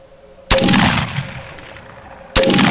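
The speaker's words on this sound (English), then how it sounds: "More noise for sure out of this AR-15 pistol." An AR-15 pistol fitted with a POF trigger fires two loud, sharp shots about two seconds apart outdoors. Each crack has a ringing decay that trails off before the next shot.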